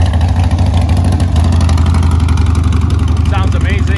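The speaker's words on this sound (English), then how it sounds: "I'm gonna start it up so you guys can check it out." A 2014 Harley-Davidson Street Bob idles close by with a steady, deep, lumpy throb, and a voice speaks briefly near the end.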